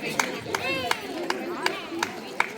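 Sharp handclaps pop out in a steady series of about eight beats at a Pongal festival kolam contest, ringing under a rhythmic chanting voice and background chatter.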